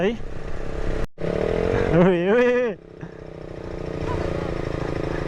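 A motorcycle engine revs hard close by on a rough off-road trail near Kathmandu, its pitch climbing and wavering, then drops back to a lower rumble.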